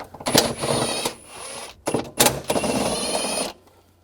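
A 13mm socket wrench loosens two nuts on the battery bracket of a 2000-2006 BMW X5, giving close, bright ratcheting whirs in two runs separated by short pauses, with a few sharp clicks.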